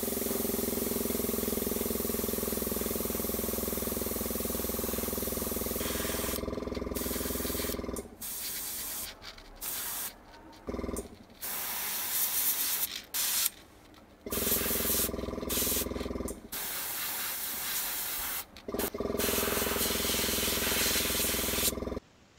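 Airbrush spraying diluted dark gray paint at about 30 psi onto the wire branches and trunk of a model tree, a close, steady hissing spray in repeated bursts of several seconds separated by short pauses.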